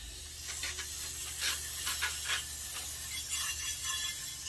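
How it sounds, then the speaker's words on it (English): Carb cleaner hisses from a spray can onto a Briggs & Stratton 14.5 hp OHV engine in short, close bursts over a steady background hum. "I'm gonna clean off with a little bit of carb cleaner here."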